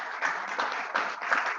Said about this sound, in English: They really deserve a very, very loud round of applause